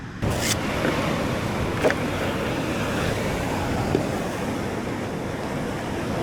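Big, messy ocean surf at Keramas during a very high tide, heard as a continuous loud roar of breaking water with a couple of brief surges, mixed with wind buffeting the microphone.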